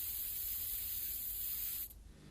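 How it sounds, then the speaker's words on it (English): A cheap can of spray paint hisses in one steady, close burst for nearly two seconds, then cuts off abruptly, leaving a faint low residual noise with no voices. "accomplished quite simply with a cheap can of spray paint"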